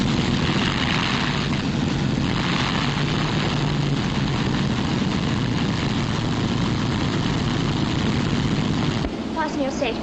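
Propeller airliner engines running before takeoff on an inaugural flight, a dense, steady low drone filling the background under the cabin, with voices talking over it throughout.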